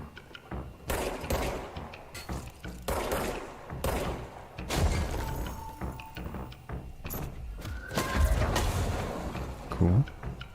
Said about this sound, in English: Oh, I hear gunfire.